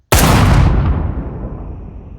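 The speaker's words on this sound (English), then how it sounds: "Then suddenly there was a gunshot." A single loud gunshot sound effect cracks sharply and then decays into a long, rumbling reverberant tail, heard alone with no voices.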